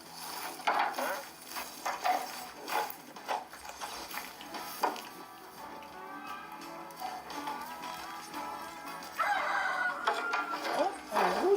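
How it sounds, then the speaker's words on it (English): A rooster crows somewhere outdoors at a building site where boards are being carried and levelled, its call rising over a steady wash of background noise with occasional knocks and taps nearby. "Oh, a rooster."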